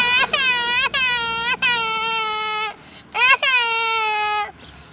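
A voice mimicking a small child crying, with four loud wailing bursts and brief catches of breath between them, close up and alone.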